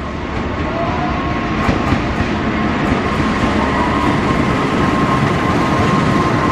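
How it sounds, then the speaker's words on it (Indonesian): The Jayabaya train, running Jakarta Pasar Senen to Malang, passes through Jatinegara station in Jakarta. Its loud, continuous rumble and clatter of wheels on rails is heard up close throughout. "Jalur 7 melintas kereta api Jayabaya, relasi Jakarta Pasar Senen, Malang"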